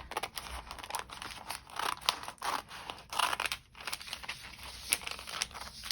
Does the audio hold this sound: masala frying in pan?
no